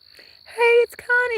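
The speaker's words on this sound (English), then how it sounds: "I don't know if y'all can hear the insects or not." Night insects chirp faintly outdoors in a nature setting, a steady thin high tone running throughout, while a person speaks briefly over it in the middle.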